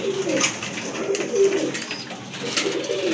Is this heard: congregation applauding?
no